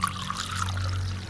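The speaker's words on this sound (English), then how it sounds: "Eva poured out another mug and brought it to him" Drink poured into a mug at a counter: a steady, close liquid stream runs for about a second over a low background hum.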